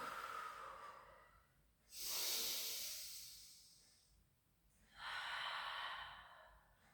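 Slow, deep breaths during a pilates session, two long airy exhalations with softer inhales between, close and quiet with no talking.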